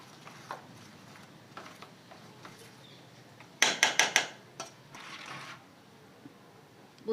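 A metal lid goes onto a cooking pot while suji idli is being made in a home kitchen: a few light clinks are followed by a quick cluster of sharp metallic rattles as it settles, close and clear.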